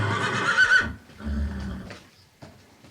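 A horse gives a loud, close whinny lasting most of a second, followed by snorting and low rumbling breaths and a soft knock.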